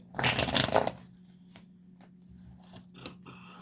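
A deck of cards is riffled in one quick, close burst of flapping rattle, then a few soft taps and handling noises follow over a steady low hum.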